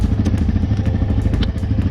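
A Yamaha Grizzly ATV engine runs close and loud with a throbbing, rapid mid-pitched pulse as it sets off on a test ride after an axle replacement, with clattering thumps over the rough idle.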